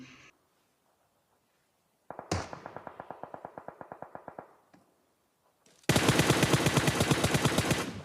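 Gunfire in the PUBG video game: a short opening burst, then a quick rapid-fire volley of crisp shots fading in a ringing echo, a pause, and a louder, denser sustained automatic burst to the end.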